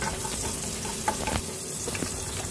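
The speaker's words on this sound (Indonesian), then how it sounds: "tumis bumbu hingga harum" Spice paste sautéing in a pan for bitter melon with fish fillet in oyster sauce, a steady close sizzle with a few soft stirring scrapes and clicks, no voices.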